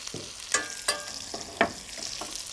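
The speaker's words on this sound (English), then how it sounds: "I'm going to put a little bit of oil and maybe a dash of butter in there to cook the lettuce" Lettuce cooks in oil and a dash of butter in a pan with a soft sizzle, broken by a few sharp utensil knocks and stirring clatters, with no speech.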